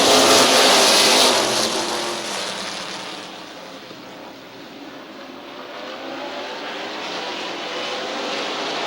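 Super Cup stock cars roaring off the green flag start at Midvale, a loud, dense wash of engines that dips slightly as the pack passes, then swells again, with no voices over it.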